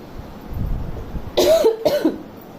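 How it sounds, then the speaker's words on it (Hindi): Two quick coughs break out close by after a moment of muffled background noise. "मेरा खांसी अभी भी है थोड़ा, तो बीच बीच में इश्यूज हो जाते हैं"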